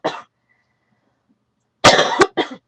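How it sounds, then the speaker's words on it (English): A single person coughs close to the microphone, one short cough followed by a longer double cough after a quiet pause, in an indoor setting. "excuse me, I apologize for my cough."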